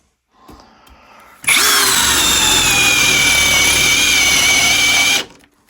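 A Bauer 20V brushless cordless 1/2 in. drill/driver spins forward at high speed with the clutch off, giving a loud, steady, high-pitched whir for about four seconds before winding down, with no other sound around it.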